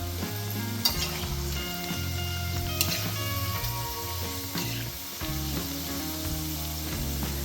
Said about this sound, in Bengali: তেলে চিপসগুলো দিয়ে নেড়ে চেড়ে ভেজে নিতে হবে